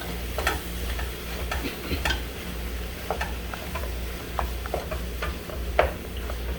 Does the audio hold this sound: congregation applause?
no